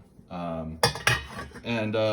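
A Lagostina cooking pot handled up close, with sharp metallic clanks and ringing clinks of lids and cookware knocking together, several bright strikes with sustained tonal resonance.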